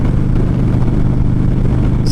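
Harley motorcycle engine running steadily at high revs, a loud, constant droning rumble with no break, heard close up and alone.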